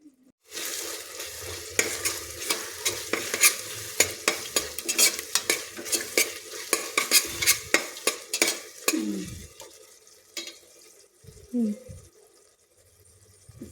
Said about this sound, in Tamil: அப்போ கொஞ்ச நேரம் வதங்கட்டும்.